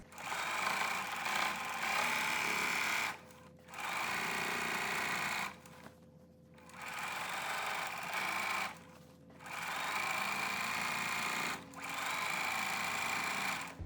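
A domestic sewing machine stitches flannel rag quilt pieces in four steady, even runs of about two to three seconds each, with short quiet pauses between them and no talking.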